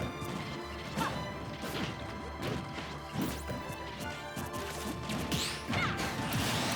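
A down smash off a parry in Super Smash Bros. Ultimate brings a dense run of loud game hits, crashes and whooshes, with repeated sharp impacts over busy background noise and no clear talk.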